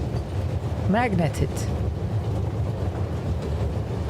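A moving train rattles along in the video game The Raven, a steady low rumble with clattering undertones, while a voice speaks briefly over it and a squealing tone rises partway through.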